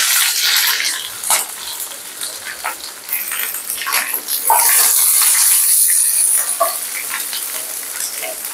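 Curry leaves, green chillies and onion hit hot oil with popped mustard seeds in a pan, giving a loud, close, continuous sizzle with crackling spits and stirring scrapes throughout.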